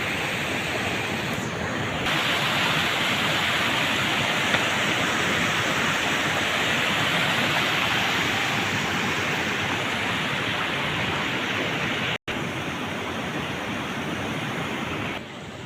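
Water of the Banas River rushes past in a loud, steady roar of broadband noise, continuous and unvarying, briefly cut by a short dropout near the end, no voices.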